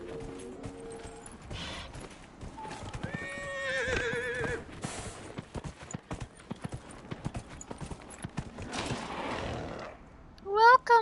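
A horse in the Dragon Age Inquisition video game whinnies amid steady clip-clopping hooves, the neigh loud near the start and hoof beats continuing, with a faint voice present.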